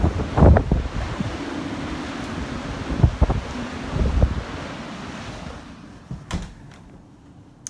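Stormy sea waves around ten feet high crash and surge under strong gusting wind, with loud bursts of surf over a steady roar that fades toward the end, and no voices.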